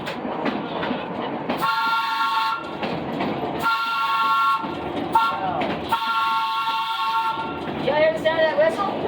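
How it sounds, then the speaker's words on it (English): Steam-era train whistle on a heritage railway ride at the Ohio Railway Museum, sounding in repeated long blasts over the rumble and clatter of the moving train, with voices talking in between. "You hear the sound of that whistle?"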